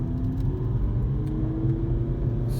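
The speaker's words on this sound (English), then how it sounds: "That's why the engine is revving so high." An Audi A3 engine in manual gear drones at high revs near its roughly 4,800 rpm redline, heard from inside the cabin, a steady rumbling hum with a slowly shifting pitch as it holds speed.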